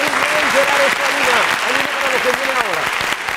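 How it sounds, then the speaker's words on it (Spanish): TV quiz-show studio audience applauding a contestant, steady dense clapping close and loud, with a presenter talking over it. "Un aplauso, porque lo ha hecho muy bien"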